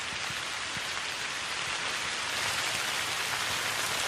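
Wind and rain sweeping over a ruined, abandoned building, a dense steady hiss of rainfall with scattered drop patter, constant and fairly loud with no voices.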